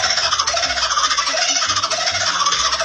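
An Australian bird calling loudly and close by, a rapid, continuous chattering trill with a squeaky, dolphin-like quality and no pauses.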